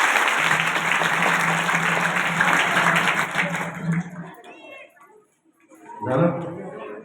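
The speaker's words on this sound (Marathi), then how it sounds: "सगळ्या मंडळीसाठी एकदा जोरदार टाळ्या वाजवा" Loud, sustained audience applause at a Marathi kirtan gathering fills the first four seconds under a steady low hum, then fades, followed by a brief burst of speech near the end.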